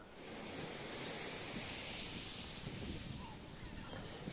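Steady roar of ocean waves washing up on a Portuguese shore, a continuous broad wash of surf heard up close with faint wind, no talking.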